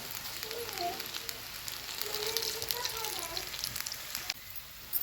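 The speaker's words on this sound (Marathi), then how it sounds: "तर बघा आता भजी तळलेलं आहे" Bhaji fritters fry in hot oil with a soft, continuous crackling sizzle, fairly quiet and steady, with faint voice-like tones in the background.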